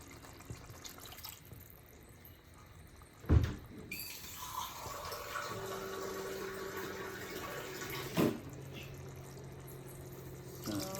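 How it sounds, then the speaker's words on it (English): Water poured into a simmering Kerala-style avoli (pomfret) fish curry, a soft stream and splash close by, with a couple of sharp clatters from the pot and faint voices in the background. "I'll add in some more water because I need it."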